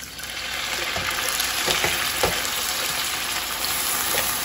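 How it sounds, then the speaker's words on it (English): Water poured into a hot pan of sausages for St. Patrick's Day sausage and mash, setting off a steady, close crackling sizzle with bursts of spitting that holds throughout, no voices. "I'm gonna add a 1/4 cup of some water just to help everything cook and make sure it does not burn."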